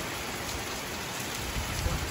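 Heavy rain pours down in a dense, steady hiss of drops striking surfaces, loud and unbroken with no voices.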